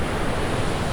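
Storm-whipped sea waves pounding and pouring into a small wooden fishing boat, a loud continuous wash of surging water and wind with no pause.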